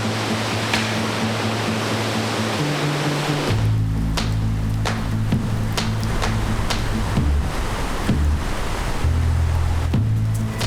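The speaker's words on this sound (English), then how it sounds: "Welcome to Thunder Creek Falls." Thunder Creek Falls in rainy New Zealand, a waterfall rushing with a loud, continuous broadband roar that fills the whole stretch, steady and close, with occasional low rumbles beneath.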